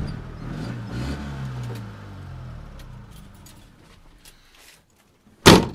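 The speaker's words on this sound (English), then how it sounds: "Since it's an old car, it's good to rev the engine while you turn it off." An old carbureted 1974 Honda Life Step Van engine is revved as it is switched off, its rumble winding down and dying into near silence. A single sharp door slam follows.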